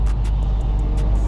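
A stock Dodge Hellcat Widebody idles with its engine and exhaust producing a loud, deep, steady rumble, close and continuous for a brief moment.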